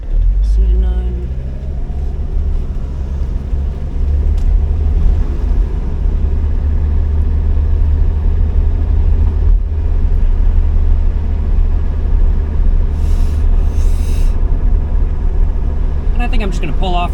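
A 1980s diesel Mercedes car drives along with a steady, loud low engine rumble inside the cabin, continuous throughout, while someone talks over it.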